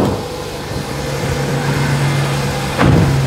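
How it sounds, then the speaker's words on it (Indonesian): 2011 Nissan Grand Livina XV automatic, its engine idling close by with a smooth, steady low hum, a faint tone running underneath and a brief rise near the end, with no talking. "Dan ini suara mesinnya"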